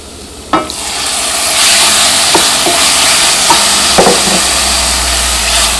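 Chicken pieces sizzle loudly in a pan of chilli masala, a steady close hiss of frying broken by several sharp knocks and scrapes as the pieces are stirred.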